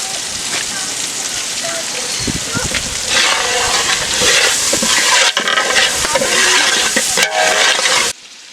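Ginger garlic paste and Kashmiri chili sizzle in hot oil for a Palakkad Rowther-style biryani, a loud steady crackling hiss that swells midway and cuts off abruptly near the end.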